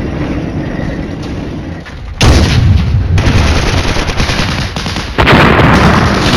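Heavy gunfire and artillery blasts from the wargame Flashpoint Campaigns, with dense bursts of shots and booms that surge loudly in waves, alone without talk.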